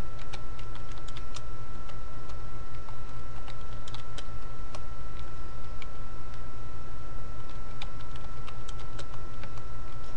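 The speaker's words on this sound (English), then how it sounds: "now I'm just going to type in some student names" Steady typing on a computer keyboard while entering student names into an Excel spreadsheet, with quick irregular key clicks running continuously throughout, close and clear over a constant low hum.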